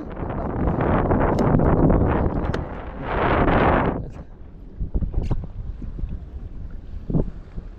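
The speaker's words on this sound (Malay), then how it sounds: "Tu dia angin." Wind blowing over the sea during kayak fishing, with strong gusty roaring buffeting the microphone, easing into softer rushing and scattered knocks and rustles.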